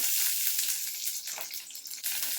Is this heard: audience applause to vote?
no